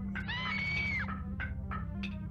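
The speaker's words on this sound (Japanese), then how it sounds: "再び彼女の悲鳴が聞こえた。" A woman's scream rings out as a sound effect in a dramatized reading of the mystery game Kamaitachi no Yoru, one long sustained shriek followed by a few shorter cries over a steady low background.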